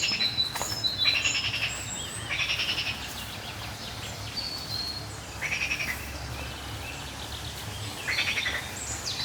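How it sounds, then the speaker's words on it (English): Repeated bright chirping calls from a bird outdoors on the grounds of a French chateau on a sunny day, recurring every couple of seconds over a steady layer of croaking frogs and soft ambient noise. "anyone know what bird that is?"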